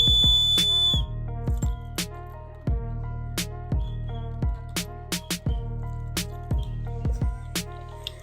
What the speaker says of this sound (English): you just blow your whistle